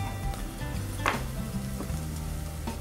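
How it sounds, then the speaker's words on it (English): Vegetables sauteing in a hot pan, a steady soft sizzle and crackle with an occasional scrape or clink of a utensil stirring, no talking over it. "We want to saute for about 2 minutes."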